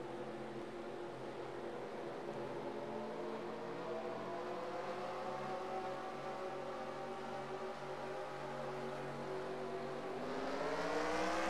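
Stock cars in a dirt race at Bristol hold a steady multi-engine drone under a single-file restart, with pitch slowly rising and swelling louder toward the end as they accelerate.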